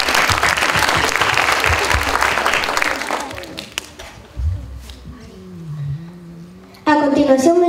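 Audience applause at a public hearing for a children's city council event fills the first three seconds loudly, then fades into scattered claps and murmuring voices, with a brief tonal sound and a renewed burst of noise near the end.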